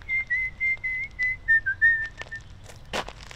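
A person whistles a short melodic tune in a series of clear, sustained notes, fairly close, ending with a brief rustle and a louder thump.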